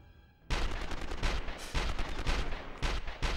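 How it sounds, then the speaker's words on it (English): In the video game 24: The Game, a burst of loud, rapid gunfire starts abruptly after a quiet moment and continues in dense, repeated shots with no talk. "These guys don't really seem too bothered about me shooting them."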